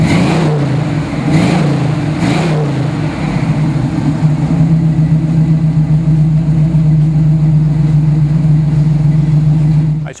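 A 1967 Chevrolet Camaro RS SS convertible with a cowl induction hood rumbles close by, with a few throttle blips early on before settling into a loud, steady idle that runs to the end.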